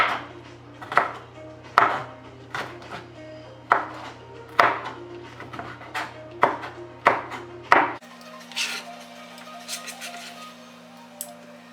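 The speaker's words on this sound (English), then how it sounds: "Just cut the sweet peppers to small pieces," Sweet peppers are cut into small cubes on a cutting board, about ten sharp, evenly spaced knife chops that are close and fairly loud, ending in quieter kitchen clatter.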